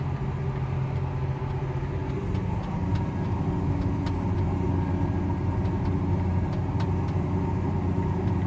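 A tractor engine held at high revs drives a spreader throwing black dust, producing a loud, steady, close rumbling drone with no pauses.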